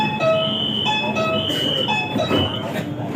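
Interior of a metro train while travelling, with a steady rumble of the carriage, faint high whines and hum, and some indistinct background voices over the ride.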